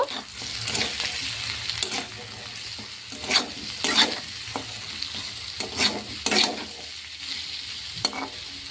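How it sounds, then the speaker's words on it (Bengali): Potato pieces frying in a pan with ground coriander and cumin, stirred steadily with a spatula; a constant close sizzle runs beneath irregular scraping strokes, louder in the middle. "এই মশলাগুলো দিয়ে আমি ভালোভাবে আলুর সাথে কষিয়ে নেব"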